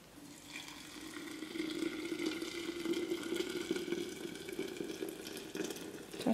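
Water runs steadily from a tap into a container for botanical dyeing, a continuous close splashing fill with a faint rising tone as the vessel fills, fairly constant in level throughout with no voices.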